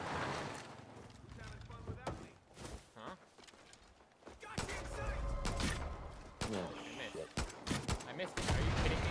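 Rapid gunfire from the Far Cry New Dawn video game: a quick series of sharp shots and bursts that grow denser toward the end, with voices talking over the action.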